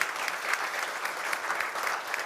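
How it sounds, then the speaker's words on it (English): A room full of people applauding at a motor rally launch event, a steady wash of clapping that stays even and moderately quiet, with no talk over it. "Round of applause for Dave Alcock."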